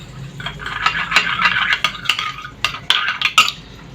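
Mayonnaise being mixed with black pepper and salt in a bowl for a chicken bun kebab filling: close, steady scraping and clinking of a spoon against the bowl, with irregular sharper taps, no voices.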